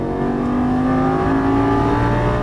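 A Lamborghini Gallardo engine roars at full throttle on a track, a loud, sustained rising drone heard close up and steady throughout with no voices.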